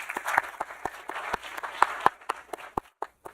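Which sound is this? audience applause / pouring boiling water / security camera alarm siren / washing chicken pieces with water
audience applause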